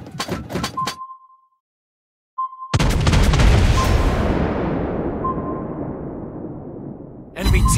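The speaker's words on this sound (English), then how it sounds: "Torpedoes!" Torpedo hits in the naval game World of Warships Blitz: a few sharp clicks and a brief tone, then a heavy booming blast that rumbles and fades over several seconds, and another burst of noise at the end.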